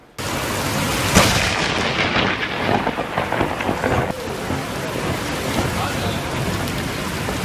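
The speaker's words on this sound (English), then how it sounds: "An intense flash of lightning and loud booms in the Lake Bluff, Illinois area last night." Thunder from a lightning storm near Lake Bluff, Illinois booms and rumbles loudly, with a sharp crack early on followed by rolling, sustained rumble mixed with heavy rain hiss.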